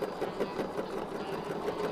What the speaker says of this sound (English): I'm going to stitch along the bottom